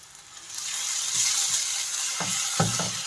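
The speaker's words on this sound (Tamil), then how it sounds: "இது கூடயே இந்த வெங்காயத்தை போடுறேன். இது கொஞ்சம் நேரம் பொரிட்டோங்க" Onions sizzling steadily in hot oil with mustard seeds, cumin and curry leaves for a kothu parotta, the hiss rising after a quiet start, with a few soft spatula knocks and stirs toward the end.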